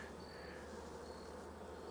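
Bees buzz on a hive frame in a close, steady drone with a faint higher whine drifting over it, and no voices.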